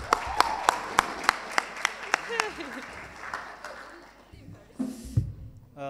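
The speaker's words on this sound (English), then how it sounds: "Please give a round of applause for Mr." Audience applause at a school TED-Ed club student talks showcase: a few sharp, close claps ring out for about two seconds, then a spoken voice takes over with the crowd's murmur beneath.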